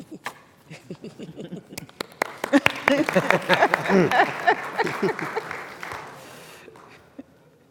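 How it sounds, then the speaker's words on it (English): Applause from a conference audience builds from scattered claps into a fuller round, close and moderately loud, then thins out and fades. "You can clap for me."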